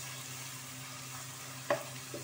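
Spices with green chili and cumin sizzle quietly in a pan, a soft, even frying hiss broken by one brief clatter of the stirring spoon near the end.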